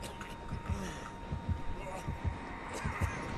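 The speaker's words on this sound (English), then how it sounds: "This heartbeat is getting louder and louder, and I don't like it." A heartbeat warning from the video game Dead by Daylight pulses in steady low thumps under quiet game ambience, with some faint talk mixed in.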